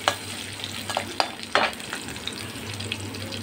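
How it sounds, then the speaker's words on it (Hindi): Dried red chilies and chopped garlic frying in hot oil for kundru sabzi, a steady close sizzle with scattered stirring scrapes and pops, no voice. "अब हम डालेंगे सूखी लाल मिर्च। और डाल देंगे कटा हुआ लहसुन।"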